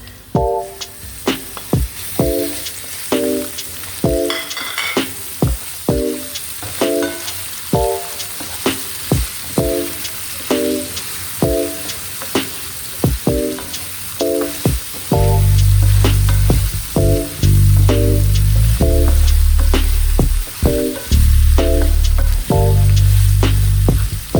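Minced ginger and garlic sizzle in a pan of hot oil for spicy garlic potatoes, a steady loud crackle with rhythmic scraping stirs, turning heavier and denser partway through, no voices.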